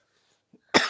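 After near silence, a single sharp, forceful cough bursts out close to the microphone, loud and brief with a raspy tail.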